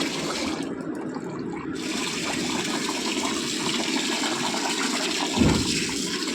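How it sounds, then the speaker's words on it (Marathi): Ration rice being rinsed in water in a kitchen, repeated until the water runs clear, makes a continuous close sloshing and gushing with a soft thump near the end and no voices. "जोपर्यंत नितळ पाणी निघत नाही तोपर्यंत आपण तांदूळ धुवून घेतले"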